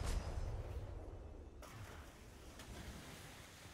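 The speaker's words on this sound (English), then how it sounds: "Okay, I'm out at sea." Steady rushing wash of sea waves with wind noise in a video game, louder at first then settling into a continuous surf hiss.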